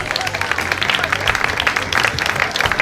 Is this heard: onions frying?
no